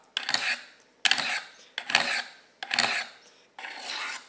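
Five evenly spaced rasping strokes of an Emerson knife blade drawn along the rods of a Triangle Sharpmaker, each a close, gritty scrape of about half a second, no talk.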